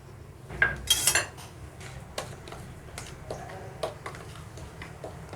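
A spoon scrapes and clinks against a bowl while mixing chilli powder, turmeric and pepper powder into a spice masala for stuffed fish fry, giving a few close, sharp taps and scrapes with quiet gaps between them.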